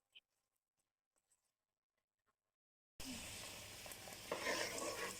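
Tomato masala for chicken curry sizzles and fries loudly in a pan, starting abruptly partway through after a few faint clinks, then holding a steady, dense crackle with no talking.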